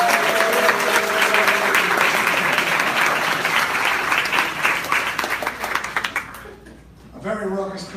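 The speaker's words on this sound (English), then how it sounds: "A very raucous crowd." A raucous audience at a live Bitcoin debate applauds loudly and steadily as a debater walks onto the stage, with dense sustained clapping that thins out near the end.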